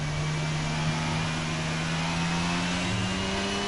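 An F1 car engine on a lap at Singapore in the F1 22 video game: a continuous high-revving whine with a slowly rising pitch, steady and loud, with no voices.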